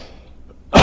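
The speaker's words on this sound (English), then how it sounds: "I hate coughing during the guided meditation." A single sharp cough bursts out near the end, loud and close, after a stretch of near silence during a guided meditation.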